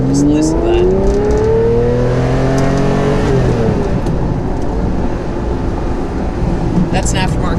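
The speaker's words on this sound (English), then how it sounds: "I'm just going to accelerate away from this stop sign." A Ferrari Testarossa with an aftermarket exhaust accelerates away from a stop sign, its engine note climbing in pitch through a loud, close, raspy pull, then settling into a rough, steady drone.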